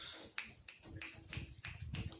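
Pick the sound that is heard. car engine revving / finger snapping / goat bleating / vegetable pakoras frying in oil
finger snapping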